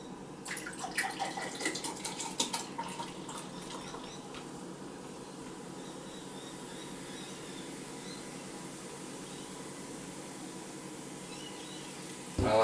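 Pepsi Max pours into a glass, with a fizzy rush of liquid and bubbling at first that settles into a steady soft hiss of carbonation, close and alone, ending in a brief clink.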